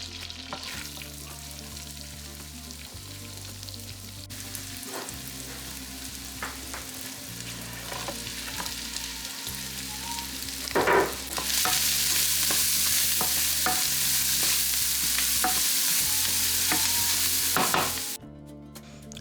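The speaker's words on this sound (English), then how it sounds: "I'm going to get them starting to cook in this pan with a little bit of butter" Chopped vegetables sizzle in a little butter in a pan, with a steady frying hiss and occasional stirring scrapes and clicks; the sizzle swells louder midway and then cuts off near the end.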